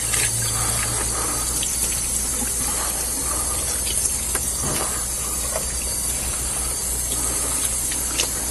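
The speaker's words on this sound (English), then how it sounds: "And then we're just going to rinse the turkey off." A raw turkey is rinsed under running tap water, a steady loud rush and splash that goes on without a break, with faint handling sounds mixed in.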